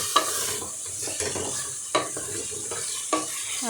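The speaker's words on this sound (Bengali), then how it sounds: "বালা হরি একটা লাড়া দেই আলুর মাঝে আলু বালা করে কষাই" Potatoes frying and sizzling in a pan for a fish-and-potato curry, with a steady hiss and a few sharp scrapes as a spatula stirs them at close range, no voices.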